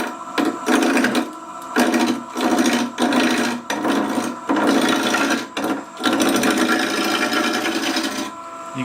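Wood lathe roughing cut across the grain, a continuous loud rasping scrape broken into repeated bursts with short gaps as the tool is pushed along the spinning wood.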